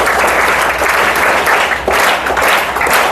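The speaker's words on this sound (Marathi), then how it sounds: "त्यासाठी टाळ्या वाजवा." Dense, loud applause from an audience at a Marathi reading-inspiration day lecture, a continuous roar of many hands clapping evenly without break, with no voices over it.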